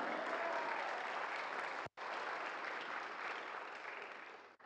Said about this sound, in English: Come on, if you're going to clap, clap.